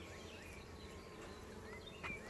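Honeybees hum around a hive frame fitted with wire-reinforced comb foundation. A faint, steady, close-up buzz with occasional louder passes by single bees, and no talking.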